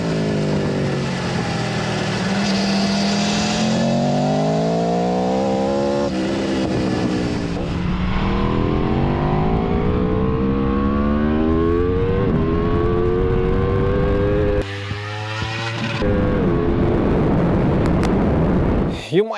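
An Aprilia Tuono V4 motorcycle without fairings rides hard on a fast race track, its loud close engine note rising and falling through repeated accelerations and gear changes, with a brief dip near the end.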